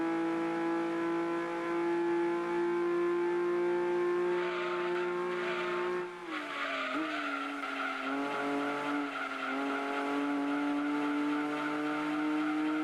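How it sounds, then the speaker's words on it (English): A steady, droning Datsun 240Z engine hum in the video game Gran Turismo 2, with a sustained tonal whine, shifting pitch midway like a gear change, continuous and fairly loud. "The sound of car engine makes me sleepy"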